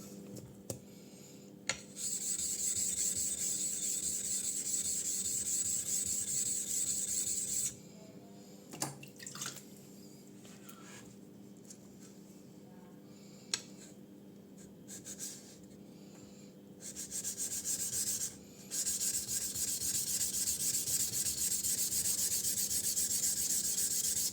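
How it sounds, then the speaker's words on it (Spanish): A Yanagiba knife drawn across a Makita 1000 grit sharpening stone, giving a steady, close abrasive rubbing that runs in long continuous stretches with a few short pauses and no talking. "vamos a ver el acabado Kasumi que le deja la piedra Makita, grano 1000"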